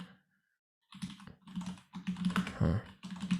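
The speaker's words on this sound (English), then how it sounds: "My keyboard isn't working in this window now." Rapid clicking keystrokes on a computer keyboard, starting after a short silence and continuing in quick irregular bursts, close and clear.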